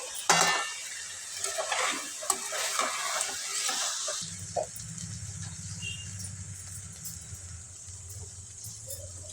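Curry leaves and green chillies are stirred in a hot oiled pan for tomato rice, with a busy run of utensil scrapes and clinks over a steady sizzle that settles into a softer, continuous frying hiss.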